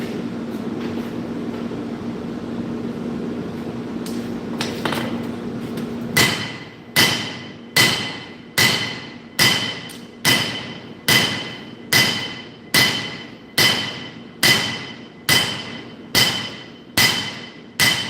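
A nakiri knife blade being hand-forged with a hammer: after several seconds of roaring forge and fan hum, loud ringing blows start and fall in a steady, even rhythm roughly every three quarters of a second, close by.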